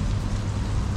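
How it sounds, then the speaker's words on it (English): Rain falling outdoors near the Crystal Mosque in Terengganu, Malaysia, a steady, dense hiss of drops on surfaces with no talk. "It's raining"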